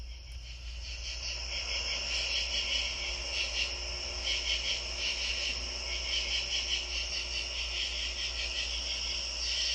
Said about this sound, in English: Some people think that if you listen closely to a katydid's call